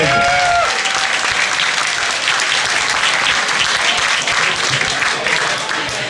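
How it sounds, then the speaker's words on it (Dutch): Guests at a carnival club reception applaud warmly, a thick, even wash of hand-clapping from a sizeable crowd that holds steady throughout, with a brief voice at the very start. "En daar is wel een applaus voor haar."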